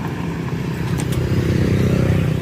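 A Honda Click scooter engine runs close by with a buzzy, pulsing drone that swells slightly partway through, alone without any talk.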